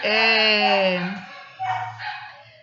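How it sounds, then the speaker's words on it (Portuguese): A neighbor's dog barks and whines from nearby: one long, drawn-out howling cry, then a shorter yelp, loud and clear with no other sounds. "o cachorro do vizinho tá latindo, vocês estão ouvindo"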